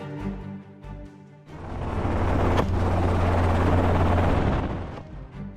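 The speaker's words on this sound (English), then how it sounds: "Helicopters are equipped specifically for hunting, allowing for precise and effective targeting of wild boars from the air." A helicopter used for aerial wild boar hunting roars loudly and close, its heavy rotor thrum and engine whine building after a brief lull and holding steady before easing slightly at the end.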